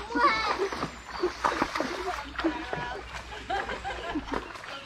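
Ponies splash through a river, with repeated watery splashes close by while children and adults chatter and laugh over them.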